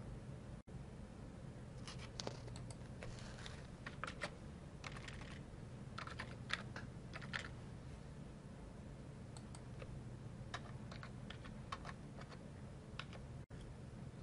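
Keys tapped on a computer keyboard while a six-digit PIN is entered, a steady run of light clicks in short bursts over a low hum, close and fairly quiet.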